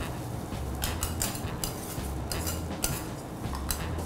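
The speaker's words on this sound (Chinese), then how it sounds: "炒一炒也是会结在一块，但是我们会稍微把它拨开。" A spatula scrapes and taps against a hot iron griddle, breaking up clumps of egg fried rice. The metallic clinks come in a quick, irregular rhythm over a steady sizzle, close and moderately loud, with no speech.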